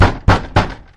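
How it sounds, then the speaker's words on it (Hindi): Three hard knocks on a house door at night, evenly spaced and close, each a sharp thud with a short decay, with no one speaking. "का दरवाजा खटखटाने लगा"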